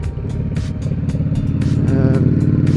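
Kawasaki ZX14 Ninja motorcycle fitted with Vance and Hines Short Shots exhaust, its engine idling close by with a deep, steady rumble that swells slightly louder toward the end, heard alone.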